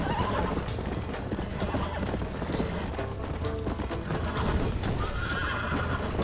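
Galloping horses in a Red Dead Redemption horse race, rapid hoofbeats pounding continuously with loud whinnies cutting through, busy and close.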